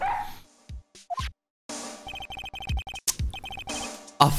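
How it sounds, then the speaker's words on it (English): A Shiba Inu police dog in the Phoenix Wright video game gives a few short, close barks and whimpers amid chiming game jingles and electronic tones. "Oh, canine police dog."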